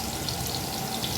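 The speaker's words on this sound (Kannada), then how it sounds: "ನೋಡಿ ಫ್ರೆಂಡ್, ಎಲ್ಲ ಚೆನ್ನಾಗಿ ಫ್ರೈ ಆಗ್ತಾ ಇದೆ" Fenugreek leaves frying in a pan in a festival-meal kitchen, a steady dense sizzle with a faint crackle running unbroken throughout, close and moderately loud, no voices.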